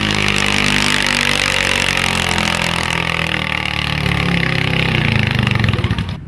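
Loud, continuous roar of powerful tractor-pull engines straining at high revs at an Ilderton, Ontario tractor pull, close and unbroken, with no voices heard.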